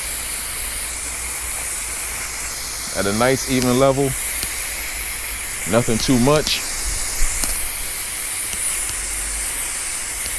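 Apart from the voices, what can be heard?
hose-end sprayer spraying insecticide on fence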